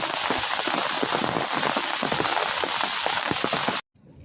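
Heavy rain pattering densely on a surface, a constant hiss with scattered drop impacts, then it cuts off abruptly near the end.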